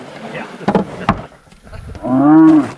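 Cattle being worked in a pen: a loud, close, drawn-out moo rises near the end, preceded by clattering knocks and movement noise, with no talk over it.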